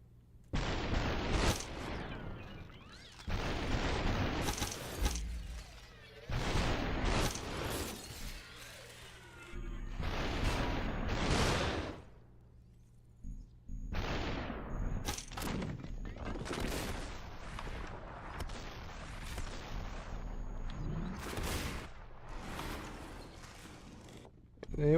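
Shots from a fully loaded gun ring out in the video game Superhot, a series of loud sharp cracks in separate bursts, each shattering and trailing off, some clustered into rapid volleys.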